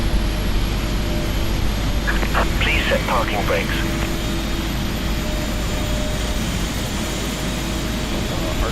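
Steady, loud roar of a Boeing 777 jet engine spooling up in a flight simulator, holding constant, with a voice briefly speaking over it.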